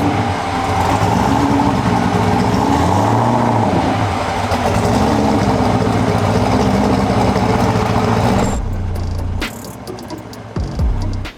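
A big-turbo Pontiac Trans Am roars loud and steady on a dyno for about eight seconds, with engine tones sweeping as it revs, then cuts abruptly to a lower idle with a few clicks and rattles.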